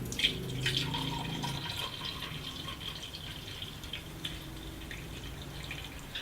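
Warm whisked turmeric latte milk pours steadily into a mug, a soft continuous trickle with a few drips, close and fairly quiet.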